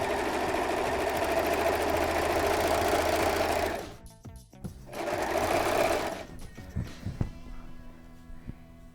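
A serger sewing machine stitches a rolled hem, first with stabilizer and then without it, whirring fast and loud close up, stopping briefly, running again, then settling into a few clacks and knocks as it halts.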